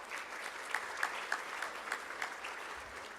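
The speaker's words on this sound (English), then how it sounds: "But let's give this team a round of applause." Training-session audience giving the team a round of applause, a quiet, steady clatter of clapping with a few sharper individual claps standing out.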